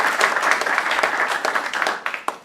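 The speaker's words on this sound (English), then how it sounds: "Please, a big round of applause for both of them" An audience claps steadily for a couple of seconds, the applause thinning out toward the end.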